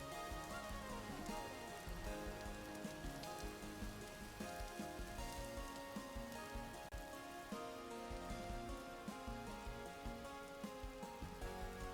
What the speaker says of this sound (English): Oh, it's raining right here.